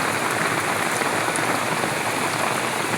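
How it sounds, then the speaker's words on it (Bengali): Steady rain falling on a surface, a dense, even hiss with scattered drop patter, constant throughout and no voices. "এই যে দেখুন বৃষ্টি কমছে"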